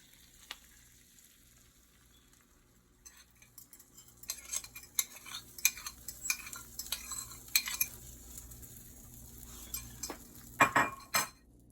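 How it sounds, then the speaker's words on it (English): An egg is poured into a hot buttered pan for a Jamaican-style French toast omelette, with quiet sizzling that builds into clinks and scrapes of a utensil against the pan. "So now, guys, I'm gonna add in my egg."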